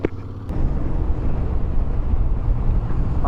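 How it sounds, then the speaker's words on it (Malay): A loud electric fan blowing, producing a dense, steady roaring whoosh that continues without break after a brief knock at the start. "Patutlah kuat, ada kipas angin."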